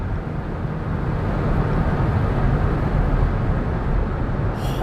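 A Stage 2+ Hyundai i30N on race fuel accelerates hard, with a loud, continuous engine and road roar that holds steady for several seconds before easing slightly.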